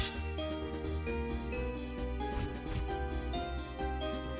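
A tinkling, chiming Zelda video game jingle used as a stream subscriber alert, bright bell-like notes ringing continuously at moderate level with no talking.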